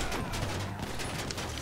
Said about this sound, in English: I'm trying to cover you from gunfire.